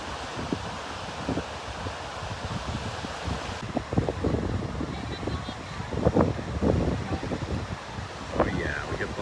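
Offshore wind buffets the microphone at a beach, a steady rushing roar with gusty surges and faint surf beneath, loud and close throughout.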